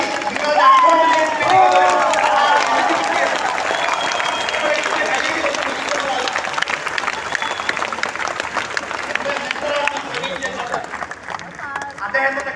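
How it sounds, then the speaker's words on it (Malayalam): An audience claps enthusiastically at the Mi Lifestyle Marketing Nexus 2025 event. The sustained applause is mixed with crowd cheering and hubbub, fading slightly toward the end. "ആവേശത്തോടെ 300 പ്രാവശ്യം കൈയടിക്കാൻ നമുക്ക് സാധിക്കും"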